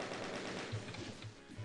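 Rapid, continuous automatic fire from the chain gun in the video game DOOM, a dense mechanical rattle of shots running steadily at close range and fairly loud throughout.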